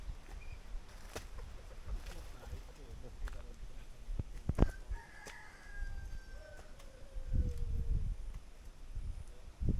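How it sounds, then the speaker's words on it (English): Rooster crowing outdoors in the Seychelles, heard at moderate distance amid wind and ambient noise, with a couple of drawn-out calls partway through and people chatting nearby. "Bro, that's a rooster."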